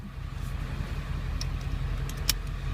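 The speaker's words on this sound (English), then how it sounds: "got my truck all warmed up, got it started and everything" A warmed-up Powerstroke diesel truck engine idles with a steady low rumble, close by, with a few faint light clinks over it.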